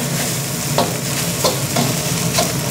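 Jasmine rice stir-fried in an aluminium wok over high heat, a steady close sizzle broken by several sharp scraping presses of the spatula at regular intervals, with no talking.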